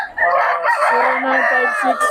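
A rooster crows loudly and close by, one long drawn-out call that wavers and trails off.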